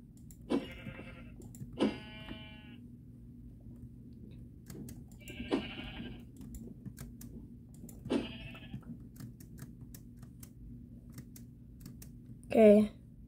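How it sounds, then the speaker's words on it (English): Minecraft sheep bleat in the Java Edition video game in a flower forest. Several faint, wavering bleats come a few seconds apart over a quiet background, followed by a louder, sharper sound at the end. "Oh, here's more sheep."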